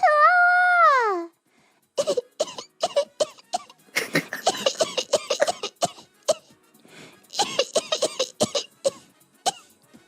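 A voice imitating a coughing baby: a short wavering whimpering cry, then a quiet pause and a long run of rapid, breathy little coughs in uneven bursts, close and clear.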